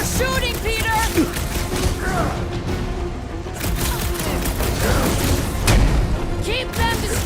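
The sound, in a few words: gunfire in Guardians of the Galaxy video game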